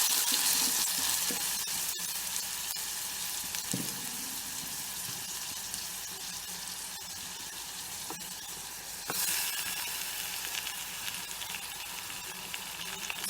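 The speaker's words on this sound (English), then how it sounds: "So once you saute this and transfer it along with ghee, you have to mix well" Grated ash gourd sautéing in ghee in a pan, a continuous close crackling sizzle with occasional stirring scrapes, steady throughout with no talking.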